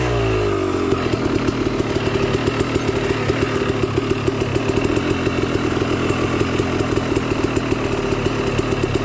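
A motorcycle engine is kicked into life and then runs hard, its rapid, even firing pulses making a loud, buzzing drone that carries on steadily and close by, with no voices.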